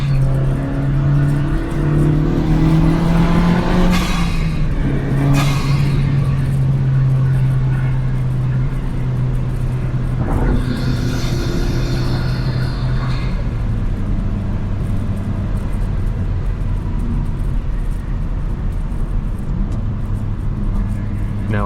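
A 2023 Honda Civic Si engine drones steadily while driving, with revs rising and falling through gear changes over a constant road rumble, loud and close throughout.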